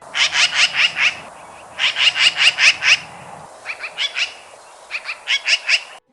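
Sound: magpie chattering call

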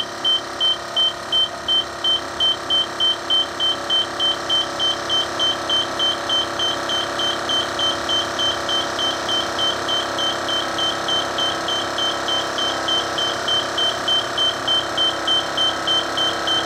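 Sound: beeping of 1998 Lincoln Mark VII air suspension during functional test

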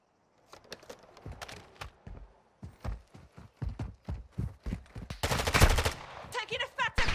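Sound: gunfire

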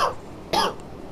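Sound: coughing

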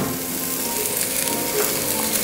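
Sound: coconut pieces added to sizzling onions in a pan

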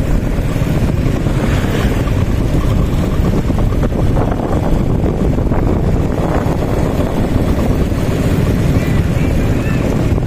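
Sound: racing boat passing on Nam Song river

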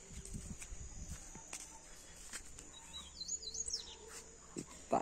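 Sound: papa-capim (Sporophila) birds singing, caged and free

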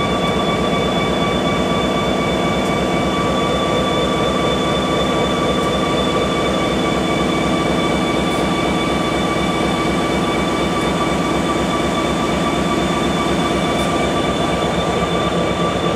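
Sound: EMD GP30 locomotive prime mover running

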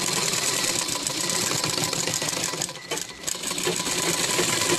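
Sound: sewing machine stitching an anarkali frock

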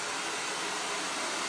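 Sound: hair dryer blowing on medium heat

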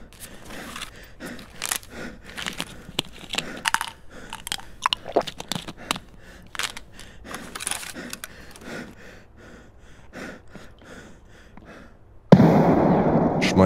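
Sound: grenade explosion in the video game Escape From Tarkov

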